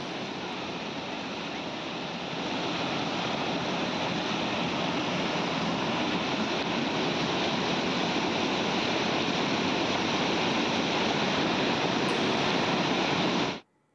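Floodwater after heavy rain rushing over the road to the Vipassana centre at Phansawadi: a constant, full roar of flowing water that swells slightly after the first couple of seconds and holds steady until it stops abruptly.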